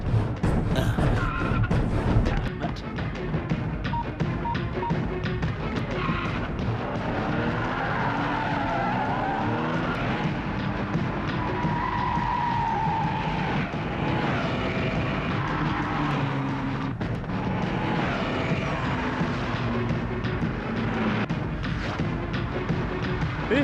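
A getaway car races off with a kidnapped woman in a Hindi-dubbed South Indian action movie, its engine roaring and tires skidding in a loud, continuous rush that lasts throughout, with no voices.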